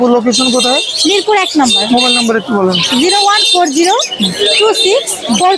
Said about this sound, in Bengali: এই লাভবার্ড এখানে দুই জোড়া আছে